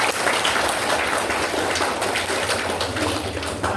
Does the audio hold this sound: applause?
yes